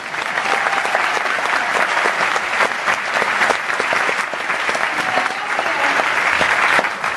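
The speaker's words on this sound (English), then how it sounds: "Round of applause for them as well." Sustained applause from an audience honouring a director and cast at a Glasgow event, dense, even clapping continuing steadily throughout with no pauses.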